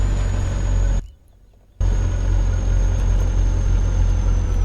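BMW car engine in My Summer Car, fitted with an EDM 500LX and Ruscko turbo, runs at a steady, loud idle, cutting out briefly near the start before resuming.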